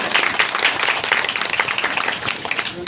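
Applause from a classroom audience at a seminar, a dense patter of many hands clapping steadily and fairly close for about three seconds, with faint voices mixed in.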